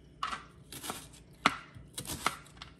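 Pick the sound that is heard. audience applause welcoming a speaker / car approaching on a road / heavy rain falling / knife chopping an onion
knife chopping an onion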